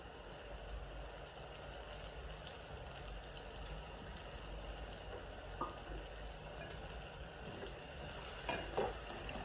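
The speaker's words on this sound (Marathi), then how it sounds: "तांदूळ छानसा परतून घ्यायचा आहे" Washed rice is sautéed with vegetables for masale bhat, giving a faint, steady sizzle broken by occasional soft stirring scrapes.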